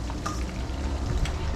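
Pre-boiled black chana tipped into a pot of Guyanese cook-up rice cooking in a backyard, a steady close frying sizzle with stirring and pouring texture, voices faintly under it.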